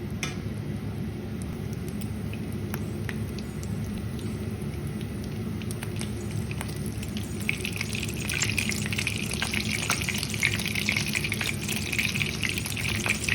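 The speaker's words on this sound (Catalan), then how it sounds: "A foc viu fregim les mandonguilles." Meatballs fry in mild olive oil in a pan over high heat, giving a steady close sizzle with scattered crackles and pops that grows a little louder and brighter toward the end.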